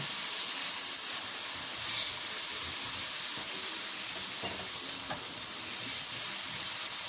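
Onion-tomato masala for dhaba-style chicken keema sizzles and steams in a pan after a small splash of water, with a steady, even frying hiss and faint stirring scrapes throughout, no talking.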